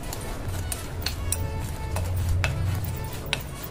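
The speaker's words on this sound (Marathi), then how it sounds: "हे व्यवस्थित एकदा मिक्स करून घेऊया" A spoon mixes a falooda premix of sugar, cornflour, milk powder, sabja seeds, vermicelli and dry fruits in a bowl. Light clinks and scrapes repeat over a low rumble, with a faint voice in the background.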